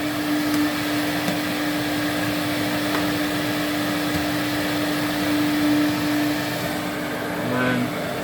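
A 1984 Electrolux Z560 vacuum cleaner runs continuously with a steady motor drone and a constant tonal whine, loud and close, shifting slightly in pitch toward the end.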